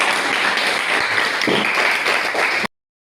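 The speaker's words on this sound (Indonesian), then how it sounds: "Oke, tepuk tangan." A class of pupils claps hands together in a classroom, a dense, continuous patter of many hands at steady loudness that stops abruptly after under three seconds.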